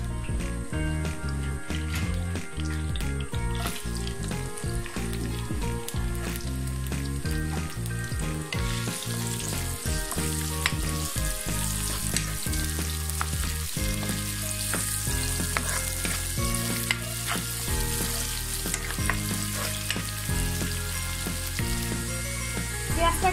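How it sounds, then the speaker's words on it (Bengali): Chopped onions fry in oil left from frying coral fish, a steady close sizzle with occasional stirring. Loud background music with a stepped melody and bass plays throughout. "যে তেলটাতে আমি ভেজেছি ওই তেলের মধ্যে আমি পেঁয়াজ কুচি দিয়ে দিচ্ছি।"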